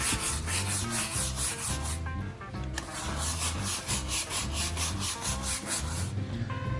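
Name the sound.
scrubbing a surface with cleaning product foam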